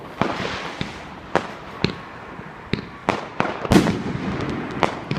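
Bonfire night fireworks crack and boom in a rapid irregular string of sharp bursts, some close and loud, over a constant crackling hiss.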